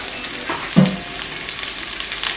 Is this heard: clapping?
no